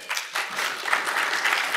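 Audience applause at a PHP conference talk in a large hall, a steady medium-loud patter of many hands clapping for about two seconds.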